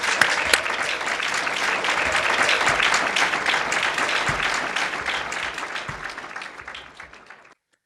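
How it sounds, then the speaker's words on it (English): Sustained applause from an audience honoring award winners at a staff appreciation ceremony, steady dense clapping for several seconds that fades out at the end. "I'd like to offer another round of applause to our award winners this year."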